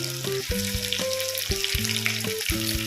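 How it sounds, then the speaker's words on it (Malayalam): Raw mango pieces frying in oil with ginger and garlic for a pickle, a crackling sizzle running throughout with repeated tonal knocks and scrapes from the pan and spoon, no talking. "ഈ സമയത്ത് നമുക്ക് മാങ്ങ ഇട്ടു. മാങ്ങ ഈ എണ്ണയിൽ കിടന്നു മൂക്കണം."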